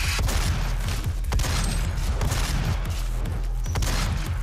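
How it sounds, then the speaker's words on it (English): Gunfire from the Doom video game comes as loud, dense volleys of sharp, rapid shots with no break, and no voice is heard. "Oh, I'm kind of shooting like an idiot."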